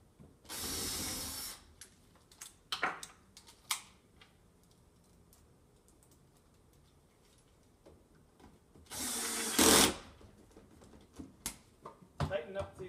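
Power driver sinking a screw while a spice rack unit is installed, two loud whirring bursts separated by quiet stretches, with scattered clicks, knocks and brief talk in between.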